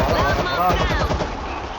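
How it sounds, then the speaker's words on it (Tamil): Rapid machine gun fire in World War Z's Tokyo chapter, a dense continuous burst of rattling shots mixed with game effects and voices talking over it throughout. "மிஷின் கன் எடுங்க."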